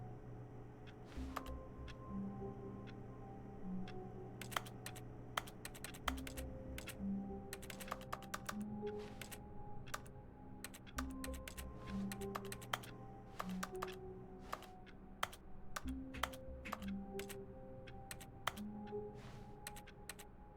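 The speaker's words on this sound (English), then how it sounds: "Why do both buttons make a keyboard sound?" Keyboard clicks from button presses in the video game The Stanley Parable: Ultra Deluxe, crisp isolated key taps in irregular bursts over a quiet, steady background hum with soft tonal music.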